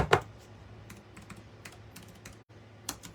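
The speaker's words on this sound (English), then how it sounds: "Okay, so I have a question while I'm typing this in." Fingers tap a computer keyboard in a quiet room, a close, irregular run of light key clicks with a sharper strike at the start and another near the end.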